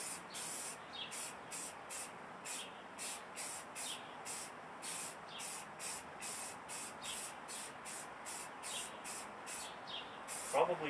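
A Canadian Tire Premier spray paint can hisses out a first coat of paint in about two dozen short, rhythmic bursts, close and steady, with no voices.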